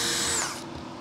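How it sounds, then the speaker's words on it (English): Power drill boring a hole into the end of a wooden dowel, a loud close high whine for about half a second that then drops away to a lower fading hum. "gonna drill a hole in the bottom of that dowel"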